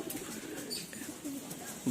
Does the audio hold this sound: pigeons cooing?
yes